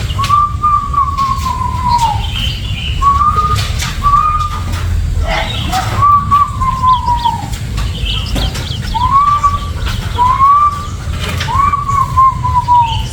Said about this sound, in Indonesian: ini si Nopal mulai beraksi mancing burung-burungnya supaya mau makan apa yang kami sediakan.